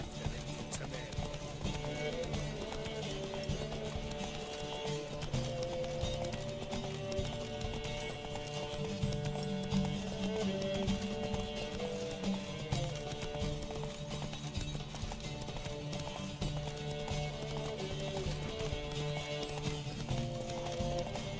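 A horse gallops in a race in The Witcher 3 video game, with quick, steady hoofbeats running through the whole stretch over game music.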